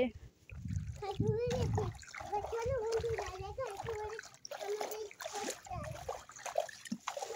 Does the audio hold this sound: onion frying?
no